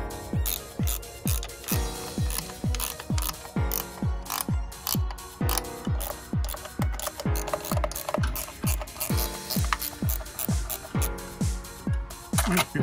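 A ratchet wrench tightens the head cover bolts on a Mazda CX-5 KE engine. The bolts go in slightly stiff after the threads were cleaned with a tap. Steady, rapid, close clicking runs continuously throughout.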